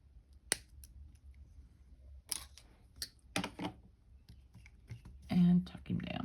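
Wire being snipped while forming a free-form triangle chain link: sharp, brief metallic clicks and snaps scattered among light handling noises, with a person talking.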